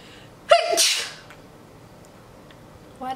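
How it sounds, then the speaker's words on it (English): A single sharp sneeze bursts out close and loud, followed by a brief breathy tail, then near silence with faint background hiss and a small sound at the very end. "know I always have to sneeze every other part."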